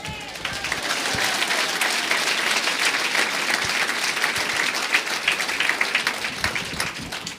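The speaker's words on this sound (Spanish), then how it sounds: "Fuerte aplausos a Cristo Jesús." A church congregation applauds loudly and steadily for several seconds, dense clapping filling the space with a faint voice or two beneath it.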